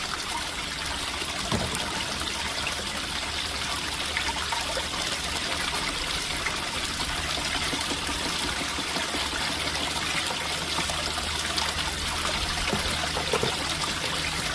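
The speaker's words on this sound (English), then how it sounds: "So it's just pouring out of my hat." River water pours and trickles out of a hat in a steady, continuous splashing stream, close and fairly loud throughout with no talking.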